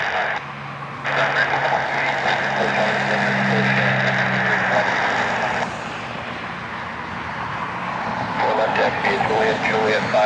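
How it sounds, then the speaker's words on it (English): A Frontier airliner taxies at Cleveland Hopkins airport, its jet engines giving a steady, moderately distant roar with a rising hum. A person speaks over the engine noise. "Frontier taxiing out wide so they can let the one that's taxiing out pull out of their gate."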